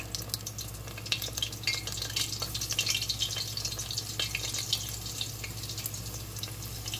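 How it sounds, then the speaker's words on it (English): Crab rangoons frying in hot grease produce a steady, close sizzle with crackling pops and bubbling, continuing without talk throughout. "I'm going to drop them in the grease"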